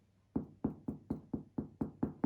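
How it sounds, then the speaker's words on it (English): Knuckles rapping on the dark, crisp crust of a wood-fired sourdough loaf baked in an Effeuno P134H pizza oven, eight even hollow knocks in steady rhythm, close and distinct with no talk. "I'm gonna do the knock test to see if it's really ready."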